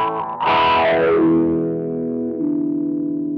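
Sonuus Wahoo filter effect with both low and high Q raised, a resonant sweeping wah tone rising then falling over a sustained, distorted-sounding note, loud and alone.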